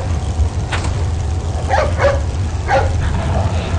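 Dog barks and whimper-like yelps from Resident Evil 4 rise in a few short bursts over a steady low game rumble, moderately loud but partly buried in the background noise.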